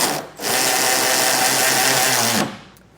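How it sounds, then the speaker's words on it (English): Power socket tool tightening hitch kit side plate hardware under a 2021 Chevrolet Silverado bed, one steady, loud whirring run of about two seconds that stops abruptly. "So I'll get my socket on here and tighten these both down."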